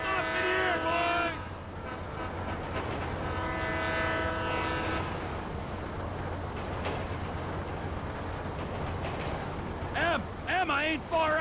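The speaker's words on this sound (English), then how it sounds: "Train ain't stopping here, boys!" Train rolling past in Grand Theft Auto V, a long sustained horn blast over steady rumbling wheels, loud and close, with game voices talking over it near the end.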